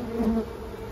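Many wasps buzz steadily inside a garden compost bin, a close, continuous drone with a brief louder swell near the start.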